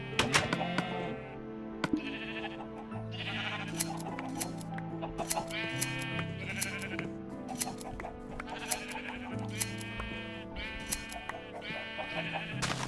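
Minecraft sheep bleat repeatedly on a sheep farm in the game, their short wavering cries popping up again and again over a layered game soundtrack.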